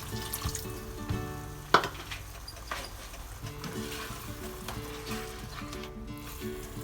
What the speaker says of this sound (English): I am going to add about half to 1 cup of water.